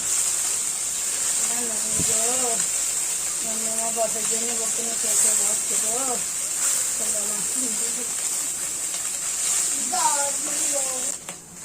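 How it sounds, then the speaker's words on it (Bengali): A steady, bright sizzle of small mola fish frying in hot oil in a kadai runs throughout, while a person talks over it. "এই মাছটাও ভালো করে ভেজে নেবো"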